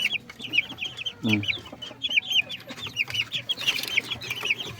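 Shamo and bantam chickens cluck and chirp steadily, a busy overlapping chatter of young birds close by, with a lower cluck breaking in briefly.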